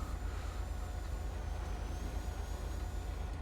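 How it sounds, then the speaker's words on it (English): A construction-site drill in GTA 5 drones on steadily as a continuous, throbbing low rumble with a faint whining tone above it. It is moderately distant with no talking. "I guess it's just a drilling sound from the construction site or whatever"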